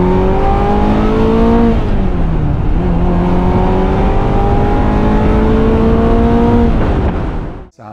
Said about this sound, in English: One of the best parts about a Ferrari 355 is the exhaust sound.